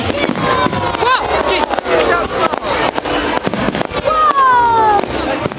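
Bonfire night fireworks exploding outdoors in rapid, loud crackling bursts and bangs with whistling rockets streaking up, while people talk and react nearby.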